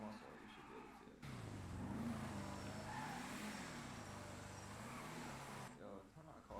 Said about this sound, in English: Yo, turn that car off, it's so loud.